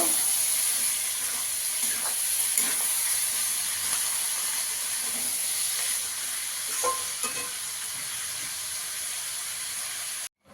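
Cabbage frying in spiced oil while being mixed, a steady hissing sizzle with occasional soft scrapes and clacks of a utensil, moderately loud and close, ending abruptly.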